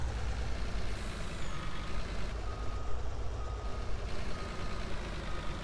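Reversing beeps of a truck in Farming Simulator 19 sound over a steady rumbling engine and low road noise, with no talking.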